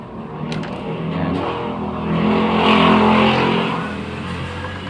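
Motorcycles pass on a roadside beside the speaker, and their engines swell into a loud rushing drone that peaks mid-clip and then fades away, with no talk.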